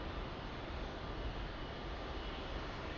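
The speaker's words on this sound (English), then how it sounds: "It was a beautiful landing, 787." A Boeing 787 airliner lands at Lisbon Airport, its engines giving a steady, distant broadband roar with no voices.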